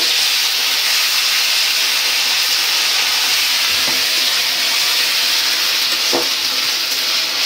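Ginger-garlic paste frying with onion and garlic in hot oil: a loud, steady, close hiss of sizzling runs throughout, with a couple of faint stirring knocks and no talking.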